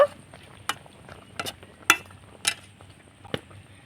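A spoon stirs a palm pitha mixture with raisins in a pan, giving six or seven separate scraping clinks spaced about half a second apart over a quiet background.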